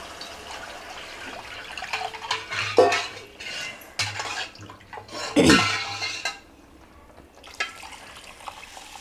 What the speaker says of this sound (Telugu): ఇంకొంచెం నీళ్ళు పోస్తా